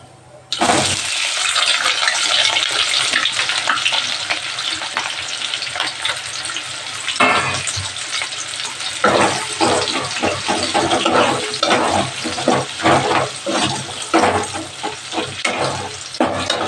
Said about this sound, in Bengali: পেঁয়াজটা আমার হালকা ভাজা হয়েছে